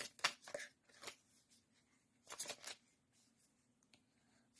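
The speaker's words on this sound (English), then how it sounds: "So I'm shuffling the cards and let's see what comes up." Tarot cards are shuffled in bursts of quick riffling and soft slapping, close and fairly quiet, with short pauses between the bursts and no speech.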